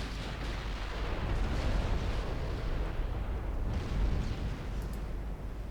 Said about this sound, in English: She's got 3 battleships firing at her though